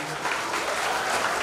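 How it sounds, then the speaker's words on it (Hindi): A welcome-ceremony audience breaks into loud, dense clapping, a steady wash of applause filling the hall without pause. "जोरदार तालियां की अपील करूंगा।"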